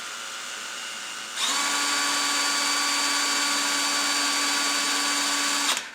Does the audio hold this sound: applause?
no